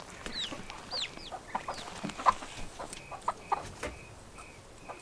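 Barred rock and silkie cross chickens cluck and chirp in a coop, short calls scattered at moderate distance over a steady low background, with a few sharper peeps standing out.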